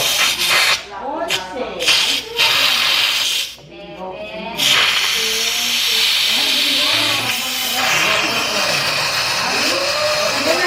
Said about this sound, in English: Letting the pressure off.